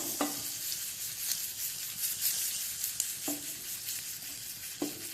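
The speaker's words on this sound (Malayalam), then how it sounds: "കായിട്ട് കൂടെ കുറച്ച് കറിവേപ്പില." Asafoetida and curry leaves sizzle in hot oil while tempering for Udupi rasam, a steady close crackle punctuated by a few sharp metallic spoon taps against the pan.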